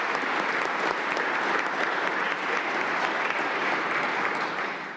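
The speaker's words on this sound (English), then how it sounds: "I'd like to give a round of applause to" Steady, dense applause from an audience at a Cleveland fire cadet graduation ceremony, loud and sustained across the whole stretch with no voices over it.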